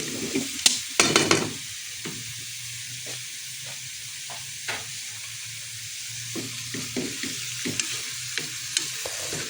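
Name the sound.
garlic and onion frying in pan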